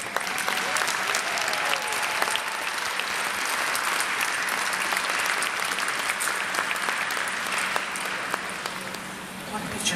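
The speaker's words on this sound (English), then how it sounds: "I really do want to have a big round of applause" A crowd applauds volunteers in gray t-shirts at a Native truth and reconciliation gathering, steady dense clapping filling the room for the full stretch and tapering slightly near the end.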